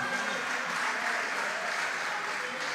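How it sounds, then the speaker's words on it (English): Audience applause for a schoolgirl at a science quiz contest between junior high schools, a steady dense wash of clapping with no voices, even in level throughout. "Please give him a round of applause."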